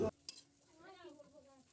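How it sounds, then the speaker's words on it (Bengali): Pieces of chicken being stirred in a kadai as they start to fry, with a sharp scrape at the start and a faint, soft sizzle and shuffle of the spoon, all heard quietly and close by. "মাংস ছাড়ার সাথে সাথে ভালো করে মাংসটাকে নাড়িয়ে নিচ্ছি"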